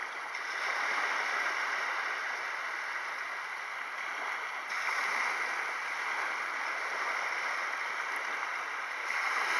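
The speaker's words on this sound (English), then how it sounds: "timeless ocean water rolling back and forth." Ocean water rolling back and forth on a shore in a tropical spot under cloudy skies, a steady broad hiss of washing surf with gentle swells in loudness, heard alone at moderate volume.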